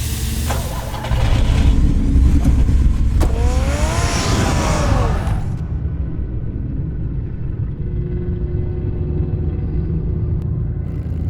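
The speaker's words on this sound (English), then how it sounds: "Get the car ready, Alfred." A car engine in the Batman Telltale video game rumbles steadily, with a revving whine rising partway through before settling into a constant low idle-like drone for the rest.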